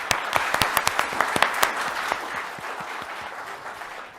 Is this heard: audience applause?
yes